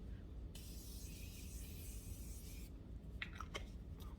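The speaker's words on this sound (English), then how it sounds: "And this is with our Morphe setting spray." A single long hiss of Morphe setting spray misted lightly onto a face lasts about two seconds, close and soft, followed by a few faint short scuffs.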